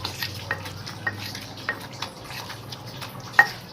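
Shallots frying in a pan and being stirred, with a steady soft sizzle under repeated scraping strokes and a few sharp clicks of a utensil against the pan, one louder knock near the end; no talking.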